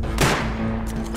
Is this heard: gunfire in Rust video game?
yes